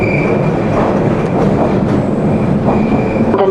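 A London Underground train runs toward Morden with a loud, steady rumble and a rattling carriage clatter. A thin wheel squeal rises near the end, and no one speaks.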